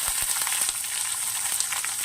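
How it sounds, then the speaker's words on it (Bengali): Chopped onion and garlic fry in hot oil for a mixed vegetable dish, giving a steady, close sizzle with a few faint crackles and light pan knocks underneath. "লাল হয়ে গেছে, এখন পেঁয়াজ কুচি দিয়ে দেব।"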